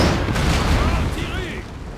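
Cannon fire in Napoleon: Total War, one heavy booming shot echoing across a battlefield and rolling away over about two seconds, with faint battle noise behind.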